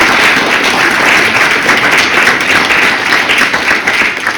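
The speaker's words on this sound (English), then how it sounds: "So we can all give a round of applause for our sponsors." Loud, dense applause fills the room at an evening awards event honoring sponsors, a continuous wash of many hands clapping without pause and no voices over it.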